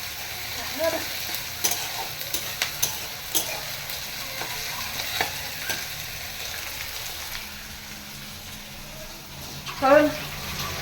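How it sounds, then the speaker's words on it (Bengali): Chicken frying in a pan, a low steady sizzle with scattered soft clinks and scraping stirs, plus a louder clatter near the end. "এখন রান্না বসিয়েছি তো চিকেনটা এসে তাড়াতাড়ি করে বসিয়ে দিয়েছি"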